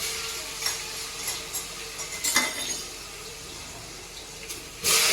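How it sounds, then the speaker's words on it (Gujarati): Asafoetida, mustard seeds, cumin, turmeric and garlic sizzle in hot oil for a vegetable dish, a steady close hiss with small stirring bumps and a louder burst of sizzle at the end. "એટલે આપણે હિંગ નાખી, રાઈ, જીરું, હળદર અને હવે લસણ."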